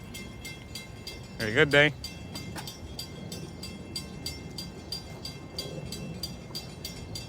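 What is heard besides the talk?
passing diesel train, MP15 AC locomotive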